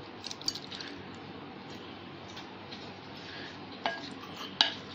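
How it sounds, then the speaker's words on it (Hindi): Paneer cubes being stirred into a whisked batter in a bowl, a soft steady wet mixing sound with faint clinks of a spoon or bowl near the end, no talking. "अच्छी तरह मिला लीजिए ताकि ये बैटर जो है पनीर में अच्छी तरह कोट होना चाहिए"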